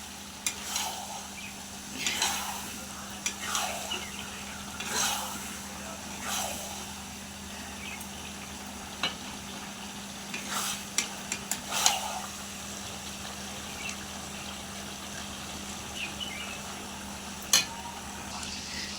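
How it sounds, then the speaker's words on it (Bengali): Masala paste simmers in a pan, giving a low background sizzle broken by intermittent scraping stirs and a few sharp utensil clicks, fairly quiet and without talk. "এখন একটু ফুটতে থাকুক।"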